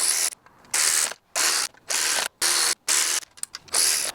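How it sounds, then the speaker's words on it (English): A power tool drives bolts on a Vespa GTS scooter during belt and roller replacement, with loud, close ratcheting bursts of about half a second repeated six or seven times with short pauses between, and no talking. "So I may be using a power tool here, but if you're looking for the utmost in accuracy and getting these tightened without cross-threading them"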